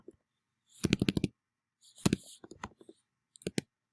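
Typing values into Microsoft Excel on a computer keyboard: quiet, close key clicks in short rapid bursts, separated by brief silent pauses.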